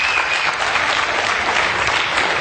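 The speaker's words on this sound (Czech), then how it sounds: "Přátelé, to chce potlesk!" A tech conference crowd at WebExpo 2009 applauds, a dense, even roar of many hands clapping that fills the whole brief moment without a break.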